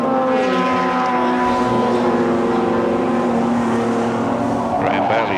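Racing cars from a 1981 Australian under-3.5-litre touring car round roar loudly around the circuit, a sustained layered engine drone with a commentator talking over it.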